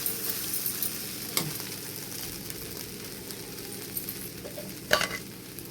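Okra (bendakaya) frying in a pan as an Indian vegetable fry, giving a steady close hiss and sizzle throughout with a couple of brief stirring clinks, no talking.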